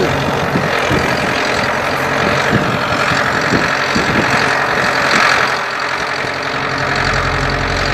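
A Ford 4600 tractor engine with a Hardy sprayer attached runs steadily near at hand, a dense mid-range idle with a regular knocking beat and no talk over it.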